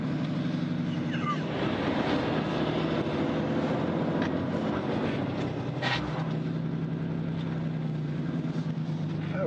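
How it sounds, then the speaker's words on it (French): Engine brake (VEB) of a heavy vehicle in a vehicle depot during a test run: a loud, steady, close droning rumble with strong low harmonic tones, continuous throughout. "Voilà, c'est le frein moteur."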